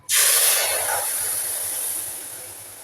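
Sugar syrup poured into hot roasted semolina in a new pan bursts into a loud, sharp hiss that swells at once and then slowly fades into a steady steamy sizzle.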